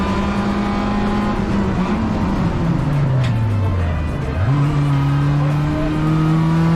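A race car engine droning steadily on track at the fastest circuit of the calendar, pitch sliding down under braking into a corner then jumping back up as it accelerates, loud and continuous from onboard with no talk.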